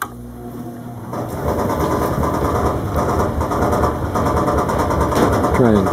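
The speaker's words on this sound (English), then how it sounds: "One Sandblaster, first trial." A homemade sandblast cabinet's sandblaster runs with a steady, loud hiss and rumble after a quieter first second, continuing evenly throughout.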